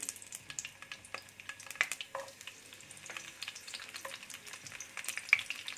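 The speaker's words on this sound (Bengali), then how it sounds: "আমি একটা পাত্রের মধ্যে সামান্য একটু তেল দিলাম এখানে, তারপর রসুন কুচিটা দিয়ে দেবো এখানে।" Chopped garlic frying in a little oil in a pot, a faint, steady crackling sizzle with light stirring clicks, close and quiet with no voices.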